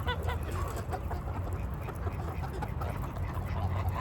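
Geese honking loudly and continuously in a noisy flock among chickens, with other fowl calls mixed in and a constant busy background.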